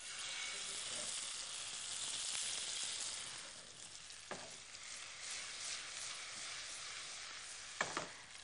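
Pieces of food fry in a generous amount of ghee over a high flame, giving a steady, close sizzle throughout with a few sharp clatters from stirring near the middle and end.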